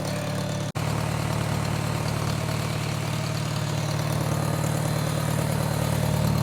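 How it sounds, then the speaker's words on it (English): A tractor engine idles steadily nearby, a loud continuous low rumble with a brief dropout near the start, then running unchanged to the end with no talk. "Let's see how the mic does eliminating some tractor sound."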